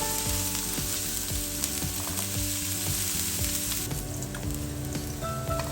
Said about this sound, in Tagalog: Lagyan na natin sabay yung ating bawang at luya. So, gigisahin lang natin siya hanggang maging brown